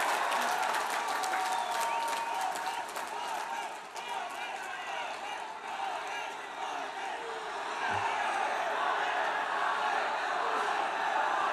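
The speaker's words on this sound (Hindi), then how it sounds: "तब जनता जनार्दन तालियों की आवाज से उनका मुंह बंद करे" Large rally crowd in Jeypore applauding steadily at a political rally, a dense wash of clapping with scattered shouts and cheers, sustained and loud throughout.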